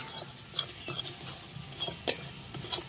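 Eggplant cooking down in a pan with egg for begun mogoji is stirred with a utensil, giving soft scrapes and a few clinking taps over a faint background sizzle, quiet and close.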